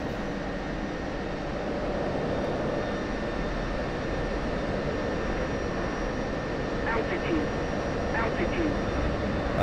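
F-16 jet diving and rolling in the DCS flight simulator, a steady loud roar of jet engine and rushing wind that holds constant throughout, with faint higher tones near the end.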